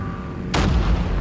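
A single loud gunshot blast from the Call of Duty video game cracks out sharply, followed by a short booming rumble and echo tail, with no talking.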